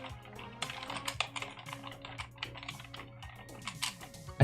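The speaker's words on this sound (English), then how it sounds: "Can you guys hear me typing?" Rapid, irregular clicking of keys on a computer keyboard as someone types into a notepad, close and moderately quiet, continuing for several seconds without any talk.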